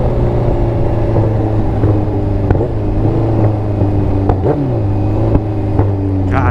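A Ninja H2 sport motorcycle, flames shooting from its exhaust, drones loudly and up close, its engine note rising and dipping through several revs.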